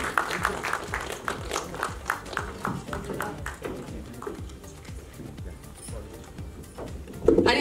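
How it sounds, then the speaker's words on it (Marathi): An audience at a film trailer launch event claps in a burst of applause that fades out over several seconds. "एकदा जोरदार टाळ्या होऊन जाऊ दे"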